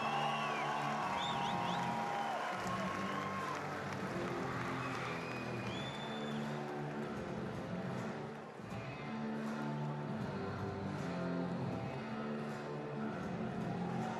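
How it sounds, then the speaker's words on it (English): A large arena crowd at a timbersports team world championship applauding and cheering the Swiss team, a continuous dense roar of clapping and voices heard from within the stands, with whistles and shouts rising above it throughout. "applaudissements à l'équipe de Suisse!"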